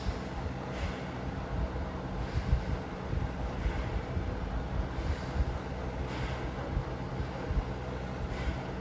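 Forceful bhastrika pranayama breathing comes as rushing, airy breaths at a steady rhythm, roughly one every second and a half, close to the microphone over a constant low hiss.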